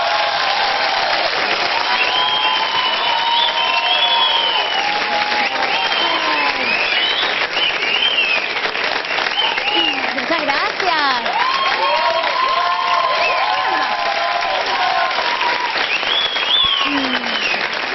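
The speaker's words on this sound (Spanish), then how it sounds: "recibamos con un gran aplauso" Loud, continuous applause and cheering from a comedy club audience welcoming a stand-up comedian, a dense roar of clapping with whistles and shouts throughout.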